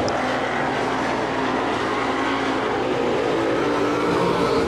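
Dirt-track crate race cars at Laurens County Speedway make a continuous, loud blended roar as the pack circles, with no clear talking.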